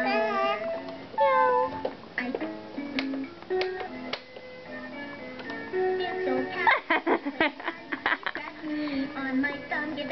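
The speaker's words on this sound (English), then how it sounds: "She meowed with the piano." A cat meows repeatedly along with piano playing, drawn-out tonal cries mixing with piano notes and a rapid run of struck keys near the end, with a voice joining in.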